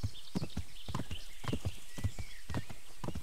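Horse hooves clip-clop at a steady walking pace while riding in the medieval game Kingdom Come: Deliverance, close and even, with faint background ambience.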